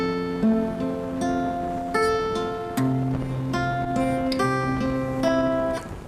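Plucked acoustic guitar chords, played as a joined sequence of picked notes ringing over one another, steady and close, with several fresh attacks across the phrase and no talking.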